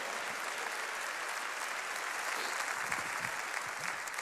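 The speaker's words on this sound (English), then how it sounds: "Clap your hands and say amen," A church congregation clapping hands at a service, a dense, steady wash of applause from many people filling the room, sustained and fairly loud with no voice on top.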